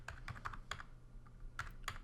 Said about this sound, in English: I'm just typing in my IP address and my MAC address directly